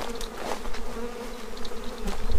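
A honeybee swarm buzzes steadily and close, a dense continuous drone of many insects with a few louder passes near the end, with no talk.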